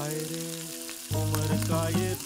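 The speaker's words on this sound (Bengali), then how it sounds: "পেঁয়াজটাকে বেশ ভালোভাবে লাল লাল করে ভেজে নিতে হবে।" Finely chopped onion fries in oil, a steady sizzling hiss lying beneath a louder tonal hum that jumps up partway through.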